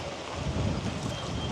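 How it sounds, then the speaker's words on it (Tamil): Wind gusts buffet the microphone in open village fields, a continuous loud rushing that builds slightly toward the end. "கொஞ்சம் காற்று கூடுதலாக அடிக்குதானே"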